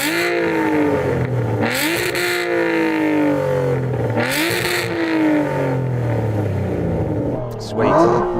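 Aston Martin car engine revving hard in repeated rising and falling blips, loud and close, with a voice briefly at the end.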